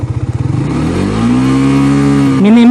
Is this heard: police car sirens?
no